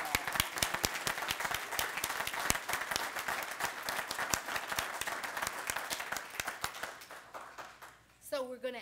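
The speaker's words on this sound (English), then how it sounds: "Please give them a warm round of applause." Gala audience in a banquet hall breaking into a warm round of applause, dense sustained clapping that thins out near the end as a voice returns.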